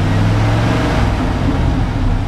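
The engine of a crawler hauler truck is held at raised revs, a loud, steady, close drone with a low throbbing hum that stays even throughout.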